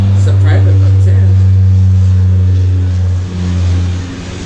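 A private motorboat engine passes nearby and holds a loud, steady low drone that dips briefly partway through, while a person talks over it.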